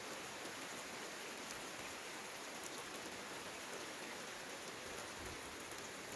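Rain pours down steadily over countryside farmland, a dense, uniform patter and hiss that holds at the same level throughout with no talking.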